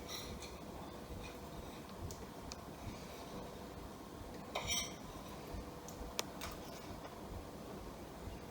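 A metal spoon clinking against a dish while Linzer torte is tasted, a handful of light, sparse taps and one sharp chink over a quiet room hum, close and soft with no talk.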